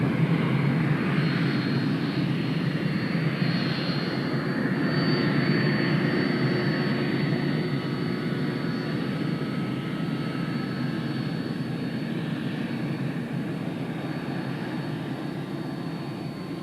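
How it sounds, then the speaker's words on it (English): Continuous loud roar of a Delta heavy airliner's jet engines on its takeoff roll at Fort Lauderdale, a steady broadband rumble with a faint high whine, holding level and easing only slightly by the end, with no voices. "Delta 191 Heavy, you are cleared for takeoff."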